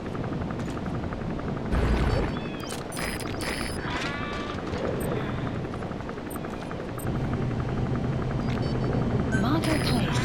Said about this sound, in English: Looks like the arms dealer's chopper is going to patrol for the security forces